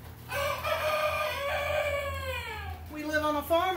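A farm rooster crows close by in long, drawn-out calls, a second shorter crow following near the end, over a low background hum.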